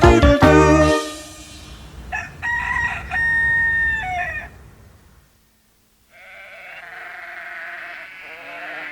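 A rooster crows a loud, close cock-a-doodle-doo, followed by further drawn-out crowing calls and, after a brief silence, a steady bleating sheep-like cry in a farmyard setting.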